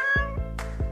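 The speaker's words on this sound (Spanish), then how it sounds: "¡Es un gato en un árbol!" A cat meows up in a tree, three short cries in quick succession, loud and close, set against a steady musical backing in a children's cartoon.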